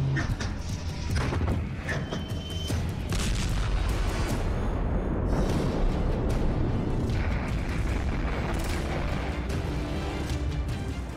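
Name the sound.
missile being fired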